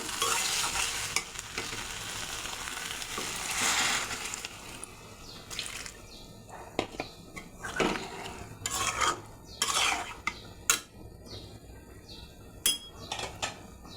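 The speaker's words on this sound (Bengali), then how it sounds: "এই যে সবজি সব কষানো হয়ে গেছে, এখন আমি একটু গরম জল দিয়ে দেব" Hot water poured into sautéed pumpkin and vegetables in a pot gives a loud burst of hissing sizzle, which fades into scattered stirring scrapes and clinks of a spoon against the pan.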